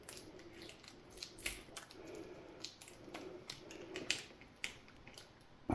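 A knife cuts and scrapes through the plastic casing of a transformer inside an APC backup UPS, making faint, irregular clicking snaps and crackles close by in a quiet room.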